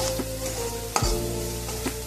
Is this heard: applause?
no